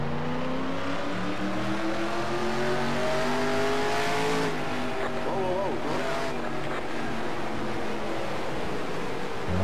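A race car engine in the NASCAR Racing 2003 video game drones loudly and continuously, its pitch rising and falling as the car accelerates and brakes, with a brief tonal wobble midway.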